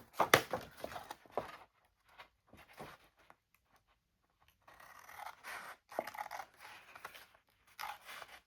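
A paper corner is cut off while making a folio, heard as faint, close snips and rustling scrapes in short bursts separated by quiet pauses.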